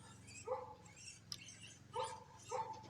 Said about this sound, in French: je vais aller faire taire le chien 2 secondes